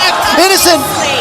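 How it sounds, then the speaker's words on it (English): An esports arena crowd roars with whoops and shouts during a tense match. The loud, dense cheering sits under an excited caster's voice. "Oh my goodness, you can hear that crowd"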